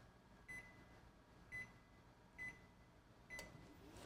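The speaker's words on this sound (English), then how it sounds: "I just put it in the microwave" A microwave oven hums faintly while heating vegetables in a home kitchen, with four short, evenly spaced beeps rising above the quiet drone.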